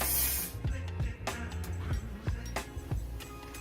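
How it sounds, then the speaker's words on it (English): A short aerosol hairspray spray hisses at the start over a curly wig's edges, followed by several soft taps, rustles and handling noises close by. "I'm gonna go ahead and spray some hairspray on it and tie it down."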